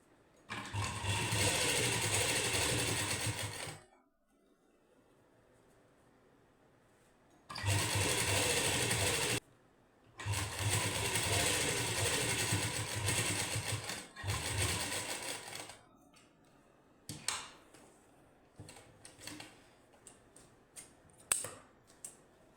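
A sewing machine runs a seam along a folded puff sleeve for a matching suit. It stitches in three bursts, the longest about five seconds, separated by pauses, then ends in scattered clicks and handling noises.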